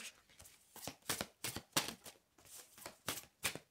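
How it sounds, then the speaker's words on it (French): Tarot cards are handled and turned over in a series of quick, soft papery flicks and snaps, close and faint, arriving in an uneven rhythm of about a dozen short bursts. "j'ai une carte qui se retourne"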